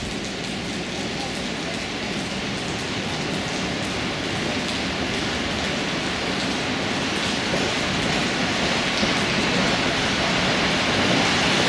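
An EP07 electric locomotive arrives at Szczecin station with a passenger service from Warsaw. A steady, loud rolling rumble and rail noise continue throughout, broad and constant, with no clear voices.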